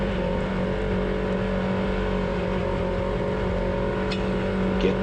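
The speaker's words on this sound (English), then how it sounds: "So we just step on the gas and away we go" An off-road vehicle's engine hums loud and steady while climbing a rocky mountain trail, with a constant droning tone and a few faint knocks near the end.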